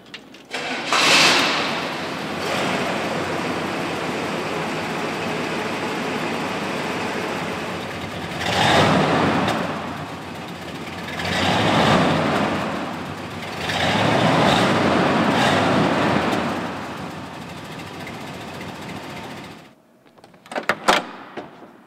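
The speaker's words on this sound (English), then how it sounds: "The 327 is a great running engine that's eager to rev, smooth while cruising, with a great exhaust note" A 1967 Chevy Impala SS's 327 V8 engine rumbles steadily, swelling in several throaty revs with a deep exhaust note, then cuts out, followed by a few clicks.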